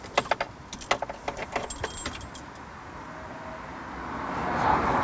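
Car keys jingle and rattle in the ignition of a car during a driving-test cockpit check, a run of bright metallic clinks over the first two seconds, then a quiet cabin hum with a faint rising whine.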